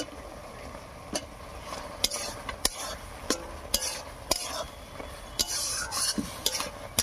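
Spoon stirring flowers into simmering tomato chutney in a pan, a steady soft scraping and sizzle with repeated sharp clinks of utensil against metal, close and fairly quiet, no talking.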